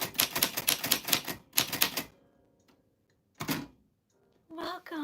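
A typewriter clacks in quick rhythmic bursts of keystrokes, close and loud, followed by quiet and a couple of isolated strikes and a brief voice-like sound near the end.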